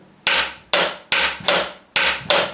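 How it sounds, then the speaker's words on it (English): Six sharp, loud impacts from a Gator socket working a bolt clamped in a vise, evenly spaced in two close pairs and singles, each decaying quickly, with no voices. "He's spinning the bolt in the vise now."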